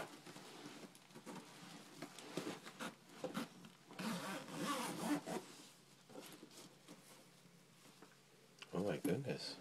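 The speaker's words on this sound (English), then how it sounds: "Can you unzip it for me?" A zipper on a fully packed bag is pulled in several rough, rubbing bursts, with a final quick zip near the end, close up, while people talk in the background.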